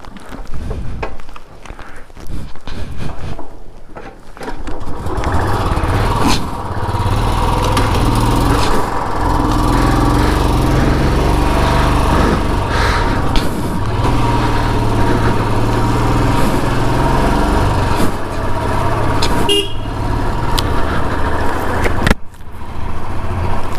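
A motorcycle engine idles and runs steadily up close, a continuous low rumble that starts rough and settles into a constant drone for most of the stretch.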